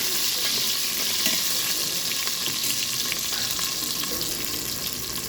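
A dense, steady sizzle of onions and chicken frying in a hot pan for chicken roast fills the clip, with occasional stirring scrapes and no talking.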